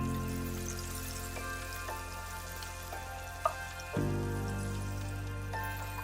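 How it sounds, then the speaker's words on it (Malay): Oil sizzles and crackles steadily in a hot wok, with a sudden surge of louder frying partway through as pounded toasted coconut filling hits the oil. "Tumis sehingga wangi"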